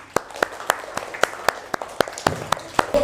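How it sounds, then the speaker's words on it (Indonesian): A classroom claps for a student in a steady rhythmic pattern: about a dozen sharp, evenly spaced claps, with children's voices calling along in time between them. "Kasih tepuk tangan untuk Fabian."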